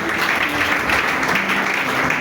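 A church congregation at a deliverance service claps and applauds together, producing a loud, continuous wash of many hands that fills the whole moment.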